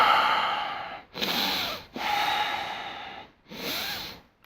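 A voice imitates someone breathing close to the face: three long, loud, airy breaths drawn in and pushed out right at the microphone, separated by brief pauses.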